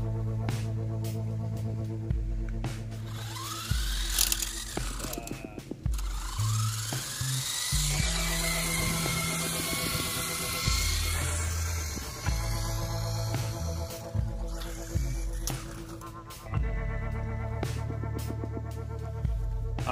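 Syma S006G toy remote-control helicopter flying outdoors on a windy day, its small motor and rotors giving a steady high-pitched electric whine that rises and dips in pitch as it throttles, close by throughout without speech.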